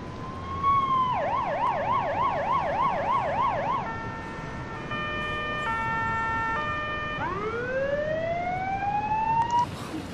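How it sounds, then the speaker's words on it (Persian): Loud ambulance siren in the video game Emergency 4, Poland mod, cycling through a fast warbling wail, then a steady two-tone pattern, then a rising whoop, over engine rumble. "الان بذار آژیرش رو هم روشن کنم."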